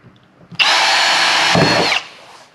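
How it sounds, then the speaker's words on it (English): A power drill whines loudly for about a second and a half, close up, as it bores a shallow hole to mount a shore power plug on a trailer, then winds down. "Just drill just a little bit. Don't go all the way through everything."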